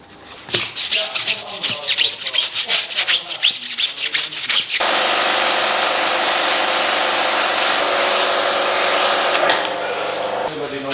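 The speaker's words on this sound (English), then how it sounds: "So after curing, it's time to agitate with a detailing brush." A detailing brush scrubs a car wheel and tire during deep cleaning after winter driving, first in quick rhythmic strokes, then in a continuous loud close-up rubbing wash that fades near the end.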